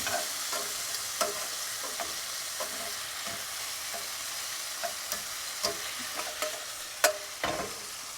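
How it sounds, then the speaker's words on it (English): Butter bubbling and browning in a pan for brown butter Parmesan linguine, with a constant close sizzling hiss and occasional sharp pops and utensil taps. "now my butter is starting to get to that place. Starts to bubble a little bit"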